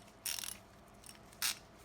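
A heavy-duty 1/2 inch ratchet clicks in two short bursts, the first about a quarter second long and a second briefer one, crisp and close against a quiet background.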